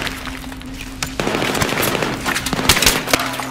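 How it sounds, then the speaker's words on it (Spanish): Gunfire aimed at the player in the shooter game Battlefield 3, with loud, rapid bursts of automatic rifle fire and scattered single shots crackling over a steady background hum, and no voices. "¿Quién me está disparando?"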